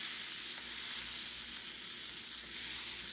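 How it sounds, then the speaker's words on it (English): Constant crackling sizzle of a chicken and cheese quesadilla frying golden brown in a hot pan while being pressed down, steady and close with no talking. "And there's our sizzle again, right?"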